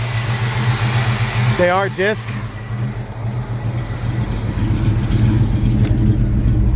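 A 1955 Chevrolet Handyman Wagon engine idles with a steady, low, even rumble close by. Someone speaks briefly over it.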